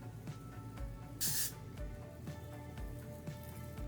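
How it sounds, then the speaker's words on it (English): A single short burst of hair spray hisses close by, lasting about a second, surrounded by quiet handling noises. "I'm just gonna go ahead and spray it on top."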